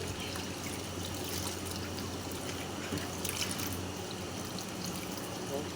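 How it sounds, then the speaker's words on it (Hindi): Water runs and splashes steadily as bitter gourds are washed by hand, a continuous trickle with light sloshing, close and fairly quiet. "अच्छी तरह करेलों को धो लेंगे"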